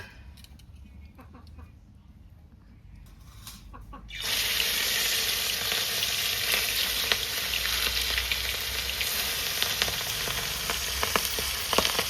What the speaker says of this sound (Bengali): তেল গরম হয়ে গিয়েছে, এবার সাবধানে কিন্তু মাছগুলোকে ভেজে নেবো, কারণ এই মাছ খুবই ফুটে